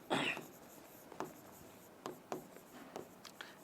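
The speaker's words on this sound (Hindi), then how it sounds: "अब हम इसका पूरा नाम लिखते हैं" Pen strokes scratch faintly on paper as a name is written out by hand, a few short separate scribbles close by in a quiet room.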